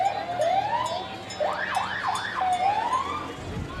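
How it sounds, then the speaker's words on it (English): Sirens from Lander Volunteer Firefighters' vehicles in the Pioneer Days parade, wailing and yelping tones rising and falling at moderate distance over open-air crowd ambience. "you'll hear the sirens for the Lander Volunteer firefighters"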